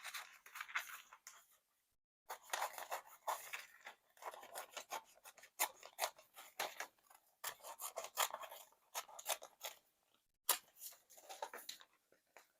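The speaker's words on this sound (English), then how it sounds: "Then what you've got to do is rough cut them out," Scissors rough-cutting traced appliqué pattern pieces out of paper, a steady run of close, rasping snips and rubbing strokes with short pauses between bursts and no talking.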